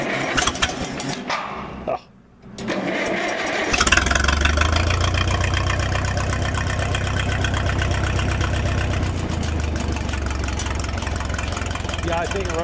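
A 1956 Minneapolis-Moline 445 tractor engine runs on a newly fitted carburetor, a steady, loud, close rumbling idle that briefly dips and then picks up and holds, with talk over it.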